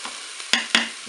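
Spanish-style rice with saffron being stirred in a hot Cookeo multicooker, a soft sizzle underneath two sharp scraping spoon strokes close by.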